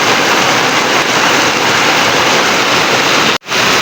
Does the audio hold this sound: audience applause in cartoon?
no